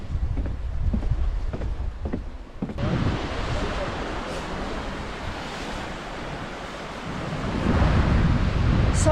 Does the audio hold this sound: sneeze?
no